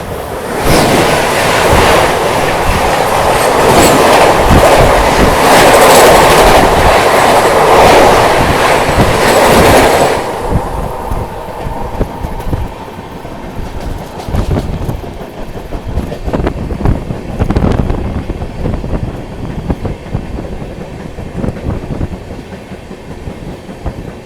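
Gondwana Express train rolling on rails, a loud steady rumble with clattering wheels for about ten seconds, then fading into quieter rail noise and scattered knocks.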